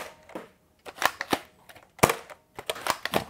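A Nerf Zombie Strike Flipfury blaster fires foam darts in a quick string of sharp clicking pops, about eight shots with short uneven gaps, close and fairly loud with no speech.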